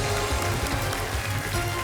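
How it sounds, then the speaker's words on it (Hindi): Dense, steady applause fills a television quiz show studio as a contestant named Sonal is welcomed to Kaun Banega Crorepati, a broad hiss of many hands clapping continuously without pause. "big hand for Sonal"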